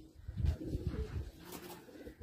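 Teddy flying pigeons at a breeder's loft give low, throaty rolling coos, several overlapping pulses close by and fairly loud, with no talk.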